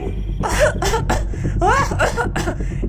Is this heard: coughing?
yes